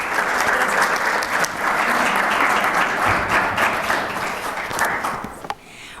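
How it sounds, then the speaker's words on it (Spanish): Applause rises from the audience at a book presentation event. The clapping is loud and continuous for about five seconds, then tapers off quickly and leaves a brief quiet moment. "Demos un fuerte aplauso"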